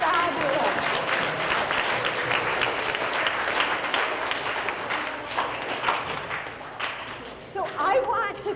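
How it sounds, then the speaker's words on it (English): Applause from a room of fifth and sixth grade children after a talk, dense steady clapping sustained for several seconds, thinning slightly near the end, with some voices mixed in. "give yourselves a round of applause"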